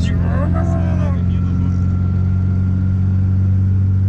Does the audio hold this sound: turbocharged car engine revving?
yes